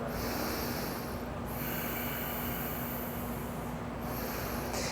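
Steady breathing during a yoga dancer's pose, rendered as a loud, continuous rushing airflow with a constant hum underneath and a few brief dips, close to the mic.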